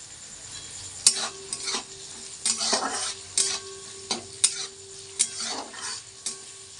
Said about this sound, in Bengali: একটু পেঁয়াজটা লাল লাল করে ভাজা হোক